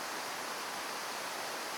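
Cailor waterfall in Romania gives a steady, broadband rush of falling water, even and continuous with no pauses or voices, moderately faint.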